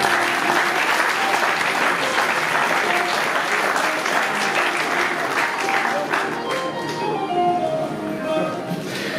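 Sustained applause from an audience, steady and full throughout, with crowd noise mixed in at a ceremony for an Air Côte d'Ivoire Airbus A320 delivery in Toulouse.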